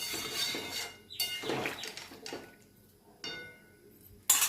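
A lid goes onto a pot of potato curry on the stove, simmering in added hot water in a home kitchen, giving several short metallic clatters and knocks spread across a few seconds, close and moderately loud, with no talking.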